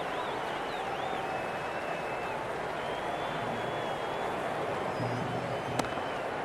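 Steady crowd buzz from spectators in the stands at a simulated India versus New Zealand T20 cricket match in the video game Cricket 26, a constant even roar with a single sharp crack near the end.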